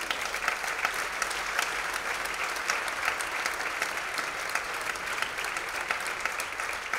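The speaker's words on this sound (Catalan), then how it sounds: "Un fort aplaudiment, si us plau." Sustained applause from a theatre audience at a season-opening gala, dense and steady with sharp individual claps standing out throughout, continuing without pause or talk.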